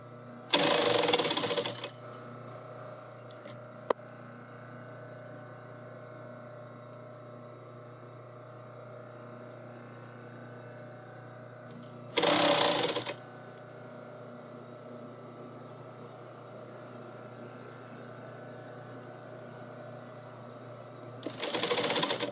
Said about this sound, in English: Do our back stitch to start, which just keeps it from coming undone, really.